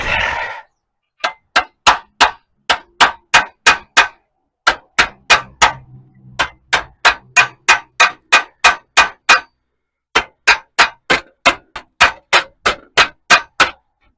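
A 1960 Chevy Biscayne roof frame is hammered over a bench vise serving as an anvil, giving a long run of loud, sharp, evenly spaced metallic clangs with a few brief pauses between bursts.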